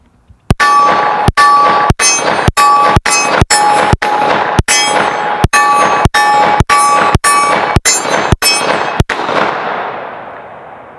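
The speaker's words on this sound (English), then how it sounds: "So I'll shoot a few shots on the tombstone here" About nineteen sharp, loud gunshots ring out at a steady pace from a Kimber KDS9C 9mm pistol, fired at a target at close range. Each crack carries a bright metallic ring, and a short echo trails off after the last shot.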